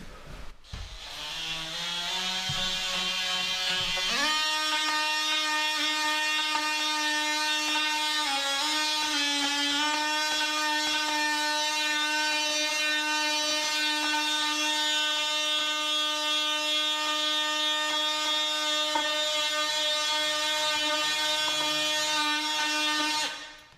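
A high-pitched electric sander with a Velcro sanding pad whines steadily for a long stretch while sanding hardwood floor corners, starting up after a brief lower hum, loud and close.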